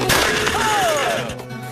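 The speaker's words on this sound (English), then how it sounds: "Oh, that's the explosion I was looking for." A loud, muffled explosion bursts out inside an oven, followed by a rumbling rush and a thin whistling tone sliding downward as it fades.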